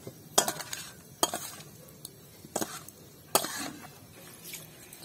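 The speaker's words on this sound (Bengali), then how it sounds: "এবার ভেজে রাখা ফুলকপিগুলো এই মশলার মধ্যে দিয়ে মাখিয়ে নেব।" Fried cauliflower florets are stirred into a spice masala with sour yogurt in a pan, with a few sharp scraping clinks of a spoon spaced about a second apart over a faint background.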